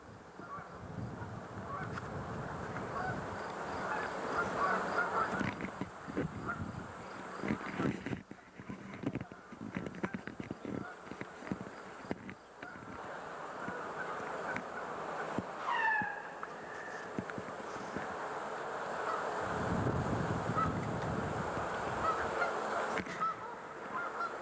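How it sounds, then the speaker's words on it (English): Migrating geese honk repeatedly in a noisy outdoor scene, loud nasal calls coming in bursts over steady background noise and wind-like rumble, the flock fairly close. "The geese are here because they're migrating south for the winter and they need to get their food supply first."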